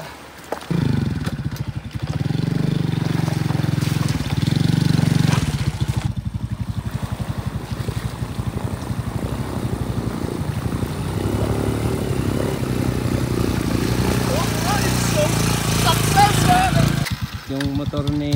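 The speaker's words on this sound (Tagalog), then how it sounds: "Yung motor ni Vin Motor medyo pumapalpak kapag umusulong sa tubig" A motorcycle engine drones steadily up close while riding through river water, revving and sputtering, with a brief drop in the middle and a rattling revival near the end.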